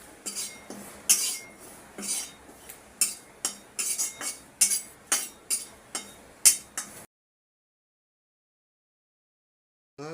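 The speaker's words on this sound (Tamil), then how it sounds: "இப்போது கருவேப்பிலையே நல்லா வறுத்து எடுத்துக்கலாம் எண்ணெய்லாம் சேர்க்கக்கூடாது வெறுமனா வறுத்து எடுத்துக்கலாம்" Curry leaves dry-roasted in a pan with no oil, a utensil stirring them in a quick run of sharp metallic clinks and scrapes for about seven seconds before it falls silent.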